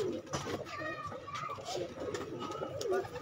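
Pigeons at a racing pigeon loft coo in soft, repeated throaty calls nearby, with people talking over them.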